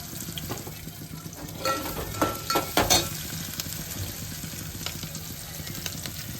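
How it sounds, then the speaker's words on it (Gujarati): Green chilies fry in hot oil with a steady close sizzle, broken by a few louder crackles and stirring scrapes in the middle. "લીલા મરચા તળવાના છે."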